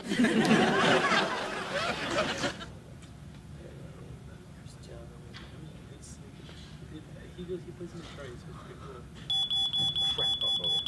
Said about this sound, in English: If we just hide out here while the smoke alarm's going off